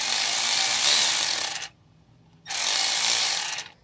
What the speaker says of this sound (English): I'm gonna go ahead and tighten the clamp up as tight enough so it's snug against the pipe.